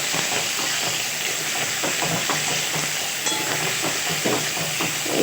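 White potatoes sizzle in mustard oil in a wok with panch phoron and dried chillies, a steady, loud hiss broken by frequent scraping stirs.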